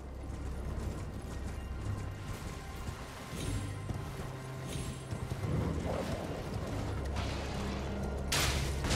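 Rhythmic clip-clop of horse hooves in Elden Ring over a steady low rumble, with some mechanical creaks and clicks, close and fairly loud.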